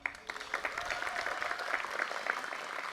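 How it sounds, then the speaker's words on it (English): An audience at a university design showcase claps for each introduced team member, a steady wash of many hands clapping at moderate distance, quiet and continuous for about three seconds. "We can clap for each one."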